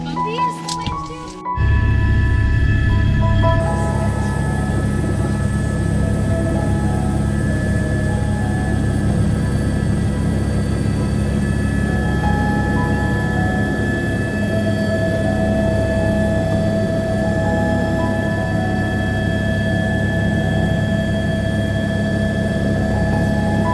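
Interior of a helicopter flying to a glacier in Alaska: a constant, loud rotor and turbine drone fills the cabin, with muffled voices faintly beneath it.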